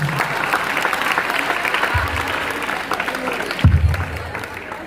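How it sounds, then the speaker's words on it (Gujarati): A school evening programme audience claps steadily for a student, sustained applause filling the room at moderate loudness with brief low thumps and murmur underneath. "એકવાર તાળી દે છે ક્રિસ ગોરસિયાને."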